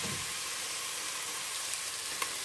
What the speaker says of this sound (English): So just stir this around until the onions are starting to brown a little bit